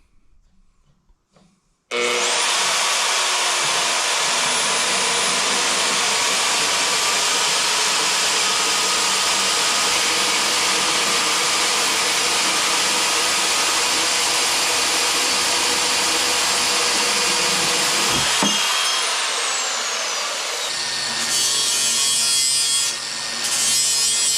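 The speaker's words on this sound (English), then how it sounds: "we'll use our new Harbor Freight bandsaw and new Harbor Freight gear" A new Harbor Freight bandsaw cutting metal gives a loud, steady whirring grind that starts abruptly after a moment of quiet and runs for about twenty seconds before dropping off, followed by some clatter.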